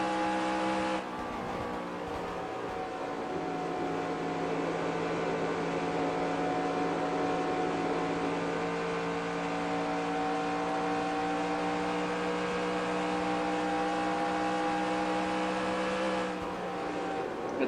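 A stock car's engine drones steadily at Charlotte in a NASCAR career-mode racing game, a sustained, even tone that holds for the whole stretch under a faint hiss.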